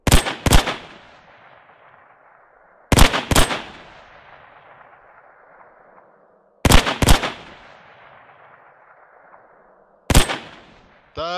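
Weapons fire in Hell Let Loose comes in four separate sharp bursts of two or three loud shots each, every burst trailing off into a long echoing decay, with a short voice appearing at the very end.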